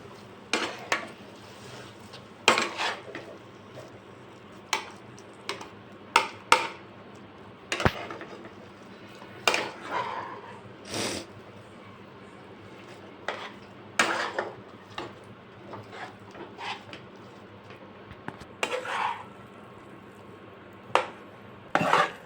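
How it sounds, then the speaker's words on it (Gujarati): Chakri dough mixture with butter is stirred in a pan with the gas switched off, making irregular metallic scrapes and clinks of spoon against pan, close and fairly sparse, with no talk. "હવે આપણે ગેસ બંધ કરી નાખશું ને હવે એને મિક્સ કરી નાખશું"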